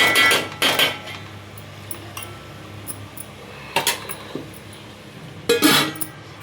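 A lid is set onto a cooking pot of broad bean and tomato curry, giving a few sharp metallic clanks and clinks close by, in separate bursts with quiet gaps between them and no talking.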